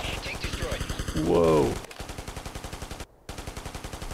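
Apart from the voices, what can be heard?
enemies shooting grenades in video game Ghost Recon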